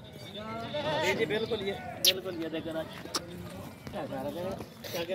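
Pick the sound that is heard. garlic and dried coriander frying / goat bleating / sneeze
goat bleating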